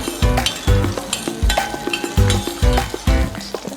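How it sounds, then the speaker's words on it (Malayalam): Cashews and raisins frying in hot ghee for Onam payasam, a steady loud sizzle broken by repeated rhythmic stirring scrapes of a spoon against the pan, with no talking. "അണ്ടിപ്പരിപ്പ് മുന്തിരി നന്നായിട്ട് ചൂടാവണം അല്ലേ നന്നായിട്ടൊന്ന് നെയ്യിൽ ചൂടായിട്ട്"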